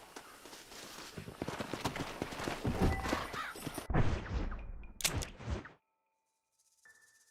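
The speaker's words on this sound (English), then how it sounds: "Olha o cavalo bugado." Hooves of a horse in Red Dead Redemption clatter in a busy stream alongside a loud whinny and snorts, then cut off abruptly into near silence with a faint tone.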